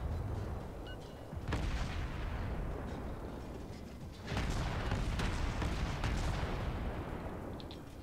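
Tank cannon shells fire in a video game, heavy booming blasts over a constant loud rumble of engine and battle noise, with one big shot standing out early and a second surge midway.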